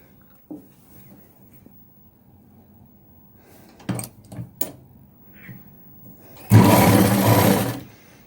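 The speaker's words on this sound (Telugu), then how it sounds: "దీని పక్క నుంచే మనం స్టిచ్ వేసుకుందాం" A sewing machine stitches along a blouse neck lining, a short loud burst of rapid mechanical whirring near the end, preceded by quiet fabric handling and a few soft knocks.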